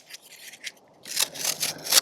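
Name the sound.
fine-edge knife cutting through cardboard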